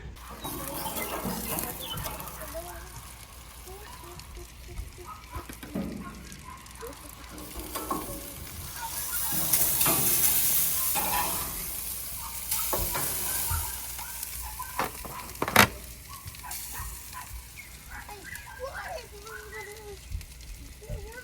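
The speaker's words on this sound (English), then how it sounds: "I can hear it sizzling in there" Yellow squash and onions sizzle and crackle steadily in a frying pan, with stirring clatter and occasional sharp utensil knocks, while a person talks over the cooking.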